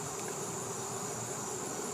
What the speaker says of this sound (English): bees, I can touch them, they don't care